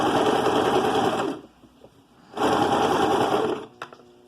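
A sewing machine runs in two loud close bursts, stitching a cuff onto soft fabric children's pants, with a quiet pause between them filled by faint handling of cloth and a short click at the end.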